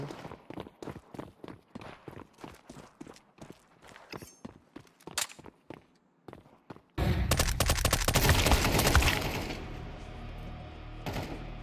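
Sprinting footsteps in a video game, a fast regular run of sharp close steps for several seconds, then swallowed by a sudden loud burst of gunfire and explosions.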